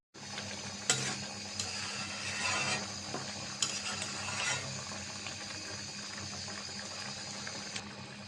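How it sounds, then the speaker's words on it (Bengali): Water poured into a pot of braised chicken and chana dal curry, a splashing fill with a few sharp clinks of utensils against the pot, close and moderately loud. "আমি এখন এর সাথে পানি দিয়ে দেব"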